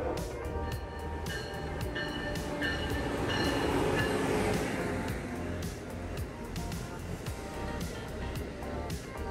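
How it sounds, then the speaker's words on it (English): Amtrak Acela Train 2249 bound for Washington, D.C. pulls into a station platform, a steady loud rumble of rolling railcars and wheels swelling and easing, with faint voices nearby. "another train pulls in. This time it's Acela Train"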